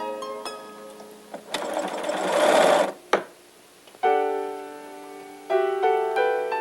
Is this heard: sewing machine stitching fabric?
yes